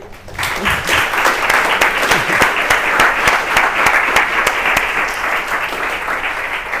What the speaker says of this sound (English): So please, an applause to them.